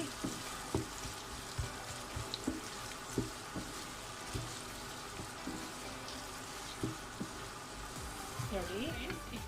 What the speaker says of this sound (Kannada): ಎರಡು ಆನಿಯನ್ಸ್ ತಗೊಂಡಿದ್ನಲ್ಲ ಫ್ರೆಂಡ್ಸ್ ಅದನ್ನು ಬರೀ ಕಟ್ ಮಾಡ್ಕೊಂಡಿದ್ದೆ ಅದನ್ನು ನನಗೆ ಇದು ಗೋಲ್ಡನ್ ಕಲರ್ ಬರೋ ತನಕ ನಾವು ಫ್ರೈ ಮಾಡ್ಕೋಬೇಕು ಚೆನ್ನಾಗಿ